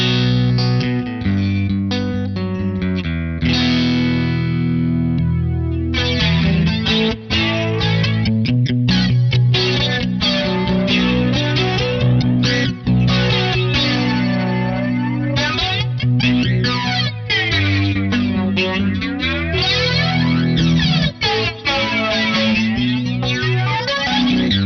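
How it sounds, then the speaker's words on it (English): An analog flanger pedal in positive feedback mode sweeps slowly and widely over a dense, distorted guitar, the jet-like comb filtering rising and falling with strong resonant overtones, loud and continuous throughout. "Starting with a classic slow and wide flanger sweep"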